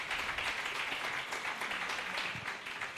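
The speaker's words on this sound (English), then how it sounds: "A round of applause for them." Crowd applause for panelists at a young pharmacists' gathering in Lagos, a steady, dense wash of clapping that stays loud and even for the whole stretch with no voices on top.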